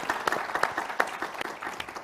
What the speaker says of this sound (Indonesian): Tepuk tangan boleh nggak untuk narasumbernya?